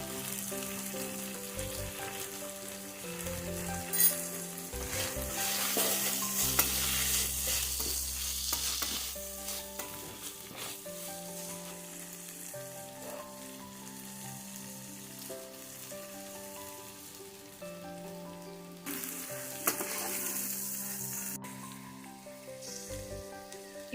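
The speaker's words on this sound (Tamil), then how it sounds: "இப்போ கிளறிடலாம்." Ivy gourd stir-fry with garam masala is stirred in a pan, with a steady close sizzle and scraping over soft background music.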